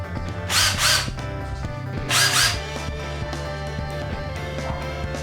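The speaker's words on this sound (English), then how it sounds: "Here's my drill." A power drill whirs in two short bursts amid a steady mechanical hum, close by, during a guitar kit build.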